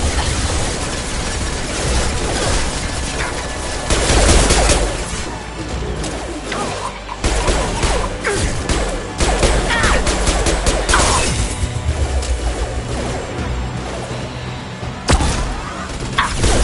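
Loud, close bursts of gunfire with crashing impacts and whooshes, in irregular clusters and rapid volleys throughout, no talking.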